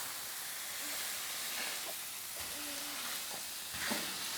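Continuous loud sizzling and hissing of smashburger patties frying on a hot Traeger griddle, with faint scraping and clinks underneath.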